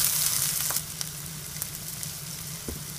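Onion, ginger, garlic and green chilli sauté in a pan with a steady close sizzle and a few faint stirring scrapes, no voices.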